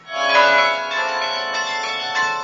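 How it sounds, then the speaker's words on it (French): Carillon bells ringing in Hondschoote, several tuned bells overlapping in a loud, resonant cascade of tones that sustain and ring on together, with no voices. "Le carillon de Hondschot a de beaux jours devant lui."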